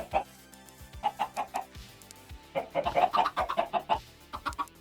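A chicken clucking in short repeated bursts, close up, with a quick run of rapid clucks midway, alone without talk.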